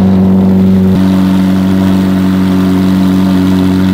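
A luxury car with a new spoiler and new exhausts, inside a Luxembourg showroom garage, settles into a steady, loud close-up engine drone; its pitch shifts at about one second, then holds with slight revving and no talk.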